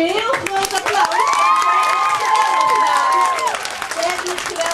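An outdoor crowd at a Liberation Day festival in Beekbergen applauds all participants, a loud sustained wash of clapping with cheers and children's shouts over it, while voices call out through the middle.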